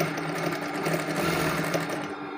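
A tailor's sewing machine runs a quick stitching pass along a kameez with piping, a fast, even mechanical rattle of close, rapid needle strokes that holds steady for a couple of seconds, with no talking.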